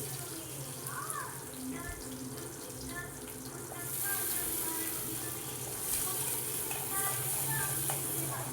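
Ginger, garlic and small shallots fry in oil for a pirandai kuzhambu, a steady sizzle with stirring and faint clinks under a low background hum, with a voice talking faintly.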